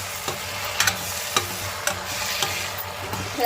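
Leafy greens fry and sizzle in a full pot, a steady crackling hiss close by with regular sharp scrapes and knocks of a spoon stirring every half second or so, with no voices.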